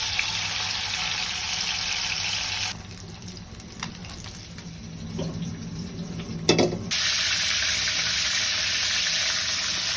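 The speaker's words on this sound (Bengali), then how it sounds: "মাছগুলো ভেজে নিচ্ছি।" Fish frying in a pan gives a steady, close hissing sizzle that drops quieter through the middle, with a sharp clank, then swells back to full strength.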